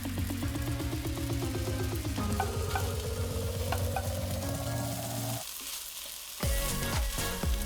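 Fried rice with shrimp and eggs sizzling loudly in a hot pan, a continuous dense crackle with scraping stir strokes and a brief lull near the end before the sizzle returns.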